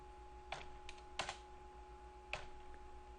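Code is typed on a computer keyboard in a few scattered, quiet clicks with pauses between them, set over a faint steady hum.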